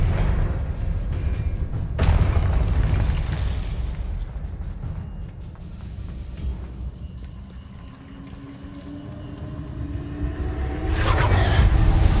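Spell explosions from the video game Hogwarts Legacy: loud, booming bursts with heavy low rumble, a sharp blast near the two-second mark and another near the end, over continuous dense game noise.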